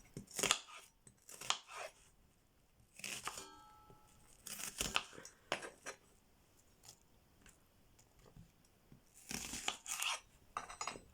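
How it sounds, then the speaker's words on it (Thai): Knife chopping shallots and garlic on a board in irregular bursts of quick chops, close and fairly loud, with pauses between, no talking. "ดี๋ยวหนูขอหั่นหอมกับกระเทียม"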